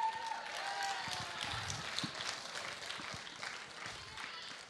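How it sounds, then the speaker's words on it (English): Audience applause at a live event, a steady wash of clapping at moderate distance that fades slightly toward the end, with murmured voices underneath. "Let's give him a round of applause."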